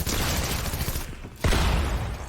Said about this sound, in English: Obviously I'm hearing gunshots, a lot of fighting going on.